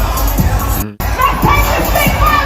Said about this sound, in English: Doesn't matter. It's a good crowd.